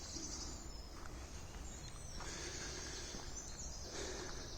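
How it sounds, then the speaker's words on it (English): A blackbird sings from the canopy of a quiet, unspoilt patch of woodland with grass and ferns, faint thin whistled phrases drifting over a soft background hush. "There's a blackbird up there."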